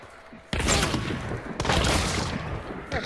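A shotgun firing in a video game, two heavy, loud blasts about a second apart followed by a fainter third, each with a long roaring tail.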